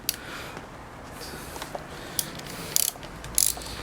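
Ratchet wrench loosening the bolts on a fairing bracket of a Yamaha XJ400Z motorcycle: faint low rattling through most of the stretch, then two short bursts of quick clicks near the end, close by and with no talk.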